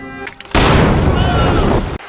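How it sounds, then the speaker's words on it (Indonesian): A guard fort blown up in an action film, one sudden massive blast that roars on for over a second as a dense rumble before cutting off, preceded by faint talk and scattered noise. "Martin membunuh 2 penjaga dan meledakkan benteng penjagaan Rastignac."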